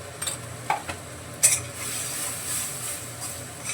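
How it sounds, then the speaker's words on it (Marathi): Masala with chilli powder and homemade black masala sautés in oil in a pan, a soft sizzle under a few quick spoon scrapes and knocks near the start. "चांगलं तेल सुटोपर्यंत परतून घेते"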